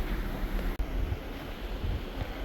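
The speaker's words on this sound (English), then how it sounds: "Got a little bit of a wind, but it's not too bad." Wind blows at sea aboard a cruise ship off the coast of Baja California, a steady broadband rush with ocean wash beneath it and one brief dropout.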